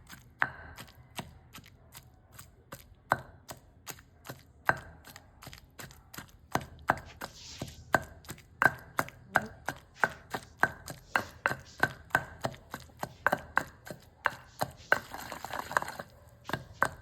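Tomatoes being pounded and ground on a stone for ridge gourd chutney, a steady series of sharp, close knocks and scrapes repeating in a fast rhythm with no talking.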